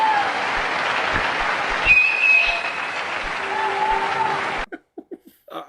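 A crowd claps and cheers loudly with a sharp whistle cutting through, then the applause stops abruptly and a few quiet voices follow.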